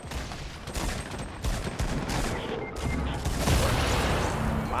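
Rapid bursts of gunfire in a Fortnite 50v50 match, dense and continuous, with shots crackling close by in quick succession and no pauses long enough for quiet.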